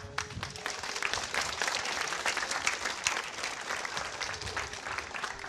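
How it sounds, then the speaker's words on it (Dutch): Steady applause from a crowd, dense clapping that holds at an even level throughout without pause. "nou een heel terecht applaus natuurlijk"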